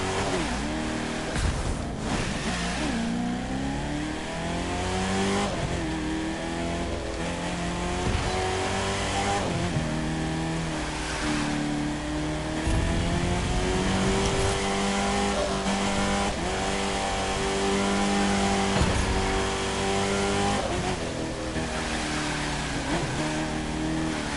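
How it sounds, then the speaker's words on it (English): A loud Chevrolet Camaro in the racing video game The Crew 2 revs and roars nonstop, its engine note rising and falling through gear changes over about twenty-four seconds, with no talking. "this Camaro is loud as all hell"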